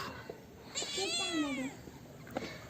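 A village cat gives a single drawn-out, falling meow close by, quiet and clear against faint outdoor background noise.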